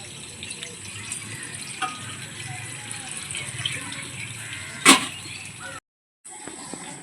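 Water runs into a pot set on a stovetop burner with a soft ongoing trickle, then a brief, sharper splash near the end before a short silence.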